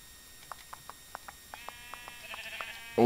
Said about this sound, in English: All these sheep